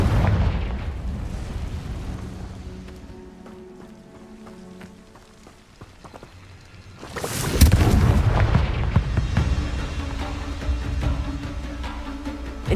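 Blasting Confringo spells fired in Hogwarts Legacy erupt as heavy fiery explosions. Rumbling, crackling blasts come first, then a much louder burst near the middle, followed by sustained crackle and debris with no talking.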